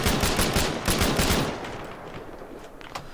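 Loud, rapid unsuppressed automatic gunfire in the Arma 3 military shooter, a dense burst of shots for over a second that then fades into a quieter tail with a few distant reports.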